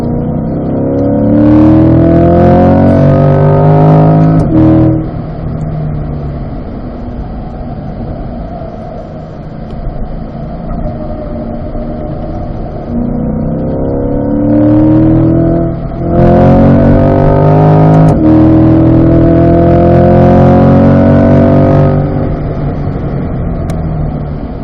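A race car accelerating around the Spring Mountain race track, its engine revving up through rising gear sweeps, dipping at shifts and climbing again, loud and close with no talk.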